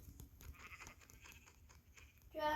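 A sheep in Minecraft gives a few faint, short bleats over quiet game background noise, ending in a louder burst of game sound.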